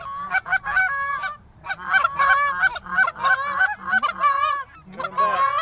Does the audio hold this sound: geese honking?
yes